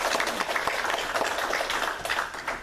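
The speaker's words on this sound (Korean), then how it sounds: "감사의 마음을 담아서 다시 한번 격려의 박수 받았습니다." A church congregation applauds during a Sunday worship service, a steady wash of clapping from many hands that stays even and moderately loud throughout.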